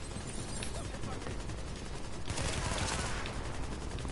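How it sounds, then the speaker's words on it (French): An MP5 submachine gun firing continuously in Tom Clancy's The Division, a steady fast stream of loud shots with a slight swell partway through, heavy and unbroken throughout. "Je joue un petit peu à la mitraillette, à l'MP5."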